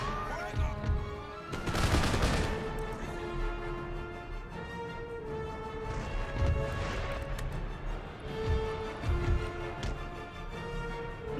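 Musket volleys in Empire Total War battle, with repeated crackling bursts of massed gunfire, one especially loud near volley early on, over a rumbling din of battle at moderate level.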